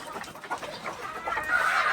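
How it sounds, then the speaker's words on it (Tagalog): Chickens being fed cluck and squawk together in a busy, overlapping chorus as they jostle for food, close by and fairly loud, with rustling activity throughout. "pinapakain natin yung mga manok."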